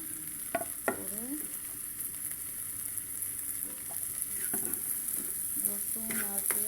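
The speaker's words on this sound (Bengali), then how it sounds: "রসুন আর পেঁয়াজ একসাথে ব্রাউন কালার করব।" Chopped onion and garlic fry in a pan with a constant quiet sizzle, broken by occasional scraping stirs and faint background voices.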